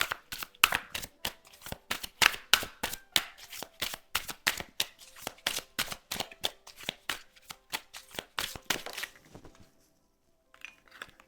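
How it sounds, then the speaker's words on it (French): Playing cards shuffled during a card reading: rapid, rhythmic riffling bursts, close and crisp, repeating for about nine seconds before stopping, followed by a few faint soft handling sounds. "je vais recouvrir ces cartes"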